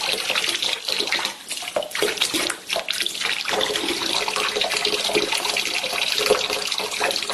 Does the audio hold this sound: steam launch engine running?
no